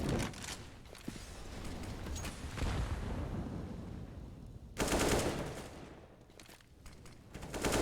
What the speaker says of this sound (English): AK for Jabbi does tap up Dexter